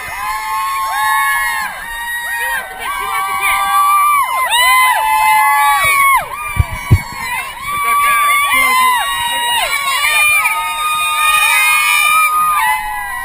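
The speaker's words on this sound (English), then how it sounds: "you begin to hear the crowd noise" Large crowd of students cheering and shouting for Boston Marathon runners at Wellesley, a loud continuous roar of voices with high-pitched screams and whoops rising and falling throughout.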